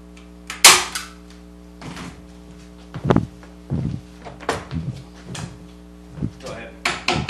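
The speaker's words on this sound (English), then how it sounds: "all we're going to do is just staple it up on here" A staple gun fastens material onto a small shop cabinet built to keep dust off a stereo, giving several sharp, loud clacks spaced irregularly, with some handling noise between them.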